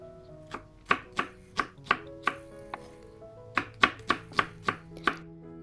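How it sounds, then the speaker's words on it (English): Knife chopping potatoes, carrots, bell peppers and onions into small cubes on a board, a run of a dozen or so sharp close thuds in two uneven bursts separated by a short pause. "I'm cutting potatoes, carrots, bell peppers and onions all into small cubes."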